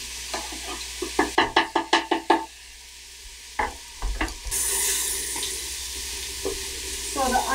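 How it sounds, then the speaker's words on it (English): Garlic and ginger dropped into a hot pan with onion, a string of sharp clattering stirs over a steady sizzle, then a louder hiss of frying that builds and holds. "Now, garlic and ginger is going in."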